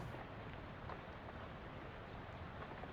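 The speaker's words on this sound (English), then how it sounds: "the motor noise turns into a sort of loud, windy whine" A loud, steady windy whine of motor noise in the video game Shadows Over Loathing, a continuous broadband roar that holds without break from start to finish.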